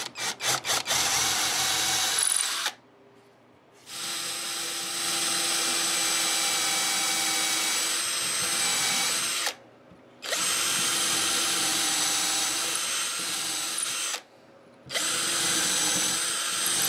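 A power drill whirs continuously in long runs, stopping briefly three times before starting again, loud and close.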